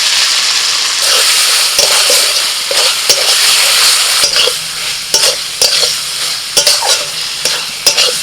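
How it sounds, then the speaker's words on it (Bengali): Spice paste sizzles loudly as it hits frying chicken in a pan for spiced minced meat ghugni, with steady hissing broken by scraping spoon strokes stirring the mixture, close up and without any talking. "চিকেনটাও দু তিন মিনিট মতো ভেজে নিয়েছি এবার আমি এই মশলাটা দিয়ে দিচ্ছি"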